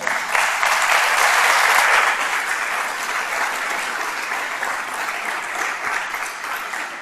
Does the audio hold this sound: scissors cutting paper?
no